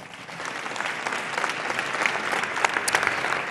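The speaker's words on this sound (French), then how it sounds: "Vous pouvez les applaudir." Sustained applause from a large audience at an international ocean summit, a dense even wash of clapping building slightly toward the end, fairly loud and with no one speaking over it.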